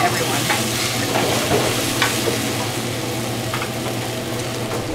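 Food sizzles and fries on a busy restaurant kitchen griddle with several items cooking at once, a loud, continuous crackling hiss with occasional stirring scrapes throughout.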